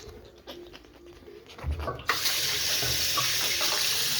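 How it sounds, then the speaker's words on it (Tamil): A kitchen tap is switched on about halfway through and then gushes steadily and loudly into the sink as hands are washed, after a few quiet clinks and shuffles beforehand. "இப்போ நான் போயிட்டு கை கழுவிட்டு வரேன்."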